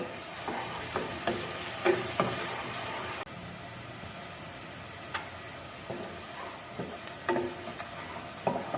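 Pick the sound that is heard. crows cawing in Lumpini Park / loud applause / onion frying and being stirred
onion frying and being stirred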